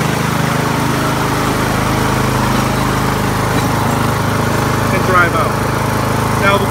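Steady, loud engine drone from a running Poulan Pro 42-inch riding mower, model 960420183, just started with the choke pulled back, holding an even note up close, with a voice over it.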